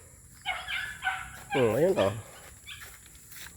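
Dogs bark and yelp in several short bursts, one drawn into a whining, wavering howl near the middle, fairly close, while someone speaks briefly.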